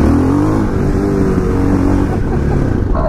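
A KTM LC4 640 single-cylinder motorcycle engine rumbles close and loud, its tone climbing and settling as the rider works the throttle during a test ride, with steady wind noise around it.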